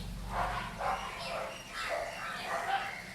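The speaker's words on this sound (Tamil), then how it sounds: "நாய் சத்தம் வெளில கேட்டாலே ஓடிடுவான்" Outdoor dog barking, a series of rhythmic, moderately distant barks repeated steadily over low background noise.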